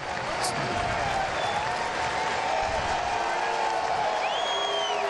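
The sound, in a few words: FC Cincinnati fans applauding and cheering an injured player off the field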